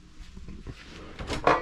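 A drawer in a cargo trailer converted into a camper slides and bumps shut, building from faint rustling to a couple of louder wooden knocks at the end.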